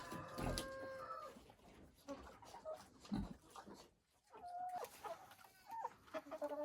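Hens clucking and chicks cheeping nearby, with scratchy rustling and scattered short calls across a farmyard.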